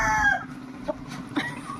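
A fighting rooster's crow trails off at the start, followed by a couple of short clucks from nearby fowl.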